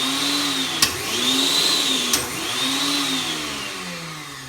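A Vitamix blender motor whirs at low speed, switching between forward and reverse with sharp clicks between spin-ups, its whine rising and falling in short cycles, heard alone.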